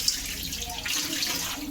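Water runs from a kitchen tap into a sink, making a steady close splashing rush that fills the whole moment, with no voices.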